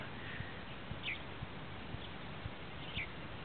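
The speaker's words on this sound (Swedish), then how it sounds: "Det är fåglar, flugor, paddor, åsnor, kameler." Early morning just after sunrise in the open near N'Djamena, Chad: faint scattered bird chirps over a steady hiss of insects and distant outdoor ambience, with no one speaking.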